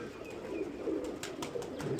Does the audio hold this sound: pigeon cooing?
yes